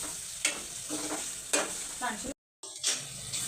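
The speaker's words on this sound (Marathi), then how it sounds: "आता पहिले आपण हे वाटण तर परतून घेऊया" Onion-coconut masala paste sautéing in a pan while being stirred, with a steady sizzle and repeated scraping strokes; there is a brief silent gap partway through.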